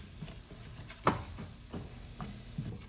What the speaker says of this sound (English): Add your salt and saute for a few minutes on medium flame.